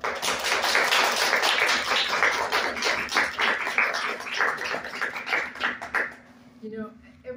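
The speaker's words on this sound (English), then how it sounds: "So let's give them a round of applause." Sustained round of audience applause at a reproductive rights event, dense clapping for about six seconds before tapering off into a quieter tail with a voice.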